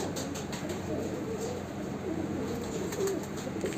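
Soft, low pigeon cooing repeats steadily beneath a constant hum of background noise, fairly distant and faint.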